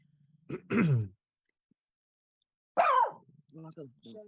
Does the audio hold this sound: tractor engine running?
no